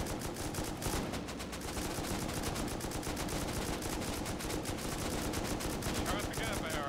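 Gunfire aimed at turrets during a raid in the video game Rust, a loud, dense, continuous stream of rapid automatic shots with no break across the whole stretch.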